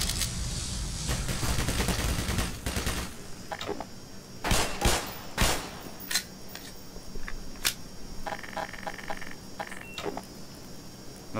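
Turret gunfire in the video game Black Mesa: a dense burst of rapid shots at first, then a few sharp, separate cracks and metallic clanks, with a faint whine in the background.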